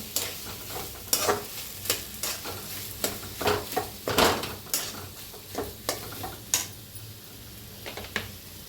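A spoon scrapes and stirs potato filling frying in a pan for bread pattice, giving about a dozen sharp, regular scraping strokes over a soft continuous sizzle, close by and without speech.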